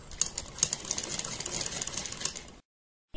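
A sewing machine stitching a boat neck design runs in a steady, fast mechanical whirr with light ticking clicks for about two and a half seconds, then stops abruptly.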